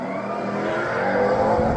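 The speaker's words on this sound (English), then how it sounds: "ZL1 got the launch, but boy, looks like that Trackhawk pulled ahead." A Camaro ZL1 and a Jeep Trackhawk launch side by side in a drag race, a loud dense engine roar building steadily over a short span, heard from nearby without talk.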